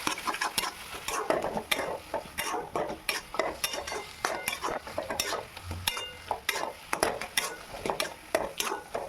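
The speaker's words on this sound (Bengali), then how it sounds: "তো এবারে এটা আমি ভালোভাবে কষে নেব। তো দেখো এখানে কষে নিচ্ছি আমি।" Spices with ground coriander and cumin sautéing in a pan for Bengali chicken kosha, sharp repeated spatula scrapes and taps over a soft background sizzle, close and continuous.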